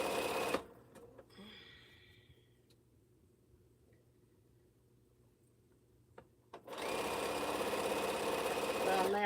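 A sewing machine stitching sashing on a T-shirt quilt runs in two bursts, one brief at the start and a longer steady whir near the end, with a quiet gap between them.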